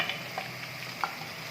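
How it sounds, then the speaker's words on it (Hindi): Onion and spices fry in oil for dhaba-style chana dal, giving a soft continuous sizzle with faint stirring scrapes and a small clink, close but quiet and without talk. "ये तीनों चीज़ें डाल के हम इसको इतना फ्राई करेंगे कि इसका कच्चापन ख़त्म हो जाए"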